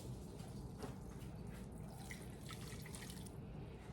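Water pours from a tap into a pot while making mango salsa for canning, a steady low splashing flow over about four seconds, faint and without talk.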